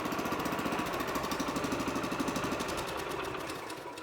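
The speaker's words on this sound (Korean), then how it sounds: "리콜 스타트를 당기다가 압이 좀 찼다 싶었을 때 당기면 시동이 걸리죠." A walk-behind tiller's small engine runs after a recoil start with the choke drawn, giving a loud, steady, rapid chugging throb that continues close by for the whole stretch with no talking.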